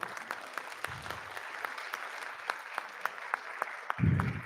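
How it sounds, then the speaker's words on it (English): Moderate applause for award recipients at a school board meeting, with individual claps standing out through a steady patter, broken by a couple of low, muffled thumps. "Another round of applause for all of our award recipients tonight."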